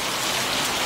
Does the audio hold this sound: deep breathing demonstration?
no